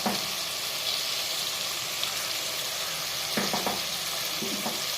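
Crushed spices sautéing in a pan for a crab curry, a loud, close, continuous sizzle and crackle with occasional scraping stirs of a spoon against the pan, no voices.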